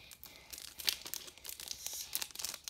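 A Pokémon card booster pack from the Sun & Moon Guardians Rising set is torn open by hand, giving a run of close, crinkly foil-wrapper rips and crackles in short uneven bursts, with no talking.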